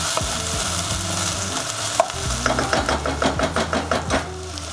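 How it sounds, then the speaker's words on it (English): Ingredients for beef lasagna fry in a pan with a close, steady sizzle, then rhythmic scraping and clacking of stirring in regular strokes over the hiss. "So let's fry until they are golden brown."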